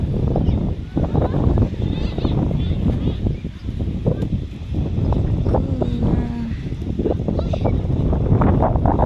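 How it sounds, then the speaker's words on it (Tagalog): Strong wind outdoors on a farm near the sea, a constant rough roar and buffeting against the microphone throughout, with faint voices in the background. "Lakas ng hangin."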